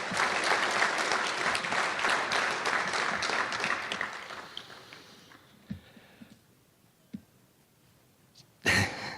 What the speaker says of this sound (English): So I think that absolutely deserves a round of applause for what she supports her husband.